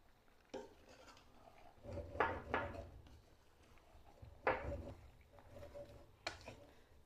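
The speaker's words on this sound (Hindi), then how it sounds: "चलें, अब करते हैं इसको नरम हाथों से मिक्स।" Hands squish and knead a soft shami kabab mixture in a bowl, giving quiet, close, wet rubbing bursts with brief gaps between them.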